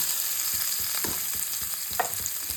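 Mashed potato stirred with chili powder, turmeric and salt in a hot pan, a constant frying hiss with soft irregular scrapes of the spoon and no talk.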